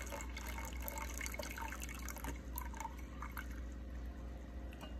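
Hot sodium hydroxide solution pours into a jar for regenerating deionization resin, giving a steady liquid splashing and trickling with small drips over a constant low hum, no talk.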